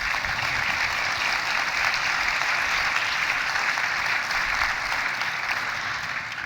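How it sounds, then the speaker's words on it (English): Sustained applause from a large audience at the WTTC Global Summit, a dense, even wash of clapping that holds steady throughout. "So a round of applause for each and every one of you."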